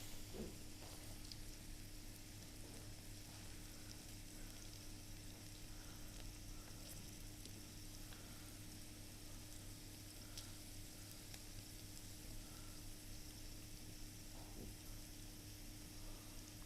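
Potatoes fry in plenty of butter and oil in a pan with a quiet, steady sizzle that runs without a break alongside a low electrical hum.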